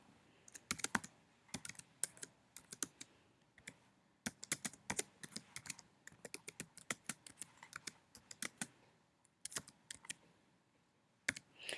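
Fast bursts of typing on a computer keyboard, crisp close key clicks in irregular runs with short pauses between, no voices.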